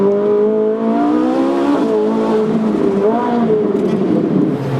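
Ferrari 458 engine from the Ferrari Virtual Academy racing sim by Kunos Simulazioni, revving steadily and loudly throughout with rising and falling pitch as it shifts through gears.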